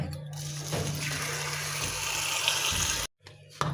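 Water splashing and running steadily as taro stolons (lati) are washed clean in a karahi, continuous and close, with a brief break near the end.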